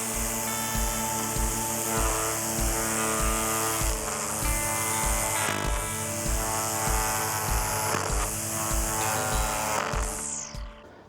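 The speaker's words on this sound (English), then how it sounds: "if you want to do more precision cutting around edges like this, then it's a bit more difficult with a string trimmer" A string trimmer whirs steadily through grass along an edge, its motor whine constant and close, with a rhythmic low pulsing from the spinning line and brief swells as it bites into growth, running alone until it cuts off near the end.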